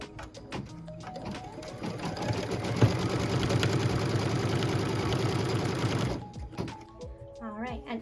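A sewing machine stitches a quilt block piece along its tack-down line, a close, steady mechanical whir running for about six seconds before stopping.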